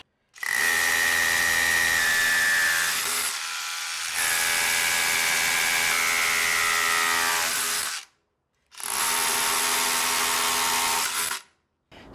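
DeWalt DCH172B Atomic 20V cordless rotary hammer with a 5/8-inch Trooper bit and an 8-amp battery, drilling in three loud, steady bursts with brief pauses between them and no talk.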